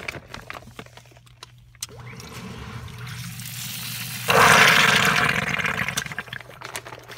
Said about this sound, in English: See, and that just pumped that water out and pumped it outside right there.